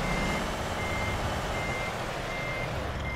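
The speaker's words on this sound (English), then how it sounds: "So I'm just gonna back the truck up." A truck's reversing alarm beeps steadily and loudly in Euro Truck Simulator 2, a continuous run of tones over a low engine rumble, with no one speaking.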